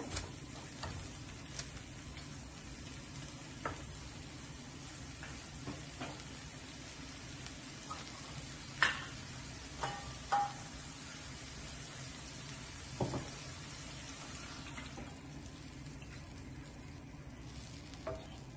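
Fish curry masala sautés in a pan over low to medium flame with a soft, continuous sizzle and occasional light clicks of stirring, heard close and alone.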